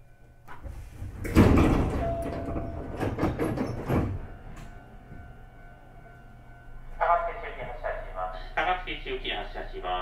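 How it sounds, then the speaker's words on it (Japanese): A Hankyu 8300 series train with Toyo GTO drive on a Kyoto Line local service stands at a station while its sliding doors close. A loud burst of rumbling and clatter early on is followed by a chime and announcement-like voices over a steady hum. "扉が閉まります。"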